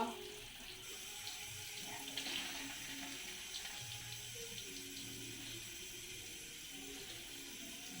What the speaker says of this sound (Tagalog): Ayan, buksan ko yung tubig